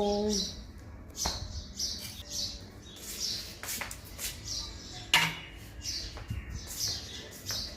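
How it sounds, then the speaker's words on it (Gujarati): Sparrows chirp repeatedly from nests close by, a busy stream of short bright tweets with occasional faint clatter in the background. "સામે ઉપર પણ ચકલીઓના માળા છે, ત્યાંથી પણ ચકલીઓના અવાજ આવી રહ્યા છે"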